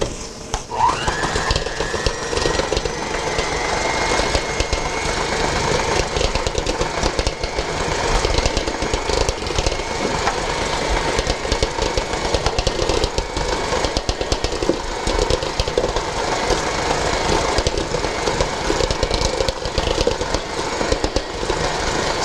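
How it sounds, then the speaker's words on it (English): Electric mixer beating soft shortening, sugar and an egg in a kitchen bowl, a steady loud mechanical whir with rattling that runs without a break from start to finish. "in my bowl I have a half a cup of soft shortening, 2 tablespoons of sugar, and an egg, and you want to beat this thoroughly"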